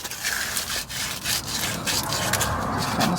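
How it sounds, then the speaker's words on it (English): Sandpaper rubbed by hand over the rear shock mount of a 1999 first-generation Toyota Tacoma, giving a close, loud, continuous rasping scrub with short back-and-forth strokes and brief dips between passes. "Just kind of sand her up a little bit and clean it"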